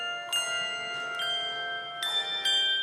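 Handbells from a church bell choir ring out in clear, sustained tones, with several fresh strikes layered over lingering, shimmering resonance.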